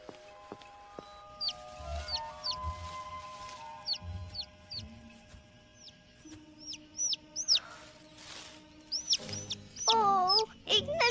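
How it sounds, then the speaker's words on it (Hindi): A small cartoon bird chirps in repeated short, high tweets, in quick bursts and pairs, over light background music and soft effects, ending in a louder flurry of calls. "ओह, एक नन्हा सा पंछी।"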